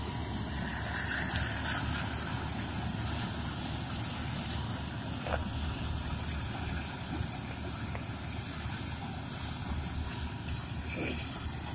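A Gahir Nippy tractor-mounted mini combine harvester with a 7.5-foot cutter bar runs in Haryana, producing a steady, loud, dense engine and machinery drone throughout, with no talk.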